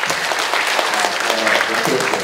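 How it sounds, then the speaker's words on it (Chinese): An audience at a university lecture hall claps in sustained, dense applause, loud and close throughout the short burst. "掌声，请给他掌声好吗？"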